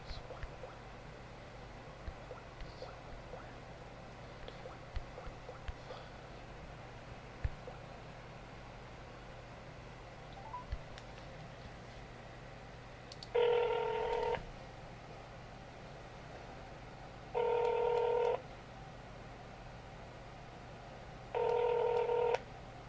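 A phone number is keyed in on a telephone as three short, evenly spaced DTMF tones sound over a quiet background hum with faint clicks, each beep lasting about a second.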